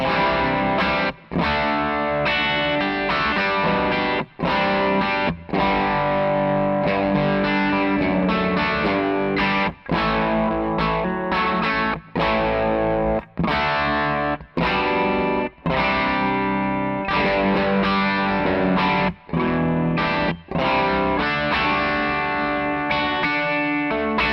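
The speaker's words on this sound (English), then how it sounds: "this pedal sounds really open. It's obviously compressing because it's a distortion sound" A Jānis Lv Miesnieks distortion pedal with its gain turned down plays an electric guitar riff: compressed, open-sounding overdriven chords in steady rhythmic strums with brief gaps between phrases, loud and up close, with no voices.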